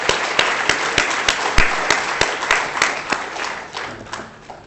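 Applause at the opening ceremony of a tourism prize forum in Hong Kong, heard as scattered distinct claps over a broadband wash that thins toward the end.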